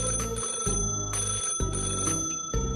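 An office telephone ringing in a Toca Boca game: a bright, steady electronic ring in rapid repeated bursts that runs loud and unbroken the whole time, with no talking.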